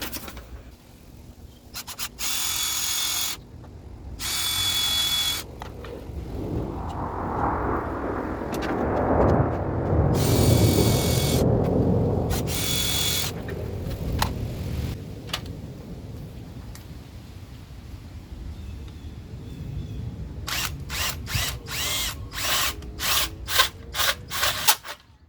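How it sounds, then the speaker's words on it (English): Power drill boring holes in wood during a Dobsonian telescope restoration, a sustained whirring grind running loud through the middle stretch, with short sharp bursts before and a rapid series of clicks near the end. "drill these holes out"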